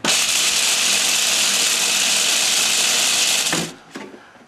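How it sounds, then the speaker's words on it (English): Food processor grinds pistachios with a loud, steady high-pitched whir for several seconds, then cuts off abruptly, leaving a few faint clunks and rattles afterward. "we'll take our food processor, put our pistachios inside of here, and we're just going to grind those down for a moment here."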